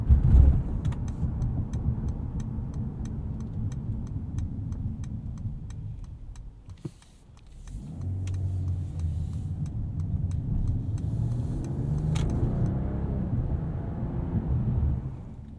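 A 2021 Mercedes-Benz E450 4Matic sedan's engine rumbles and builds as it accelerates, with a brief dip partway through and a steady ticking running alongside.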